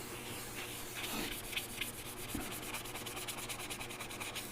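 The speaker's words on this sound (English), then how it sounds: "This is 1000 grit, so it really doesn't leave any sanding scratches." Fine 1000-grit sandpaper rubbed back and forth in quick, even strokes, a soft close-up scratchy whisper that repeats steadily without talk.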